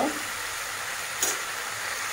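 Local chicken frying on low heat, a continuous close hissing sizzle with one brief stirring scrape midway.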